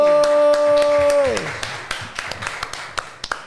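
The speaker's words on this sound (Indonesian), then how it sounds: "Terima kasih buat tepuk tangannya ya." Scattered audience applause at a stand-up comedy show, a handful of separate claps tapering off after a sustained sung or spoken voice ends.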